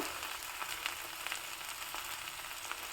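Faint, steady frying of okra in a pan, a soft sizzle with small crackles and pops scattered through it.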